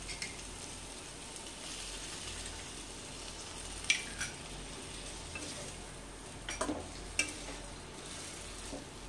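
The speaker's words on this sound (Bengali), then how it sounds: "এবার এই সময় আমি পটলগুলো দিয়ে দিচ্ছি।" Pointed gourds frying in a dried spice paste with a little milk, a soft continuous sizzle with occasional sharp clinks of a utensil against the pan, close and fairly quiet with no talking.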